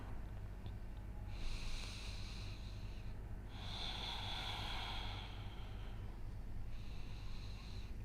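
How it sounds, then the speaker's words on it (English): Slow deep breathing during a yoga stretch, three soft airy breaths in and out, close to the microphone over a low steady background hum, with pauses between each breath. "I'm going to take 3 breaths here."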